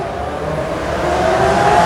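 A Lamborghini Aventador S idles while standing still, its engine giving a steady, loud drone with a bright harmonic tone that swells slightly toward the end, with no talk over it.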